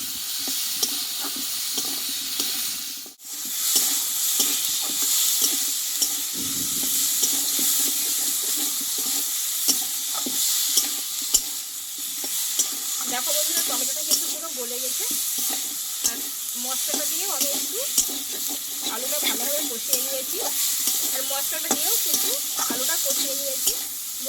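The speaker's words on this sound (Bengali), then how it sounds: "এইটা একটু আলুর সঙ্গে কষিয়ে নেব" A fish curry mixture with potatoes, green chili and ginger is sautéed in a pan, with a steady close sizzle under repeated scraping stirs and clinks throughout, plus a brief knock early on.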